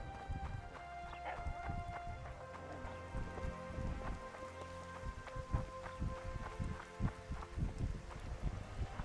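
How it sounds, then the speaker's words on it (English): Steady rain in The Witcher 2 patters and drips across surfaces, with scattered heavier drops and soft thuds layered through the wash of noise. "I said it would rain."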